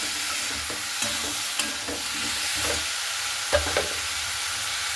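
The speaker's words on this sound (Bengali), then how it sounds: "এরপরে মশলার সঙ্গে খুব ভালো মতো করে লালমিটাকে আমি এইভাবে নাড়াচাড়া করে নিচ্ছি।" Fried red chilies are stirred into a cooked spice paste in a pan: a continuous close sizzle under repeated scraping strokes of a spoon, steady and fairly loud.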